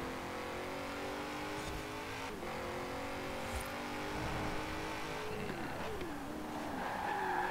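A rotary-engined race car in a video game howls through rising and falling revs while tires squeal and skid in places, with other engines droning beneath it, fairly quiet overall and with no talk.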